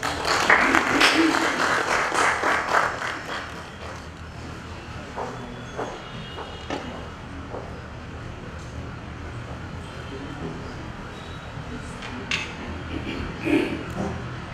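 Audience applause following a speech at an anti-money laundering course launch, a dense burst of clapping that starts loud and thins out into scattered claps and room murmur.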